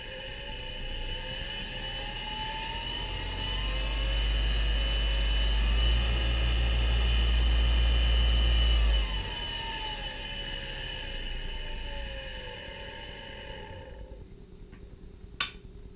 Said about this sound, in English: Motor's going the right direction.